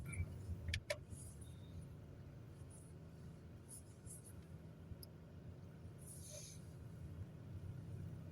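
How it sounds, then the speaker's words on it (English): Car idling while stopped in traffic, a faint low steady rumble with a couple of brief clicks and soft background noises, no voices. "So I guess we're stopped in traffic"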